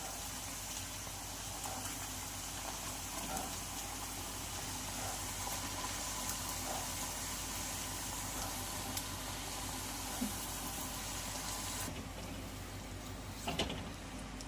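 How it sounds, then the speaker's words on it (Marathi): Chaat papdi frying in hot oil, a steady, even sizzle and crackle of the dough pieces bubbling in the pan, constant and fairly soft with no voices. "अगदी मिनिटभरातच ह्या पापड्या फ्राय होऊन वर येतात."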